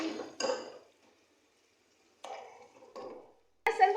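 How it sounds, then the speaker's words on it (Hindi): Pieces of meat dropped into a cooking pot of fried ginger-garlic paste while making achar gosht, giving a few short clattering, sizzling bursts separated by quiet pauses. "अब इसके अंदर मैं गोश्त डालूंगी।"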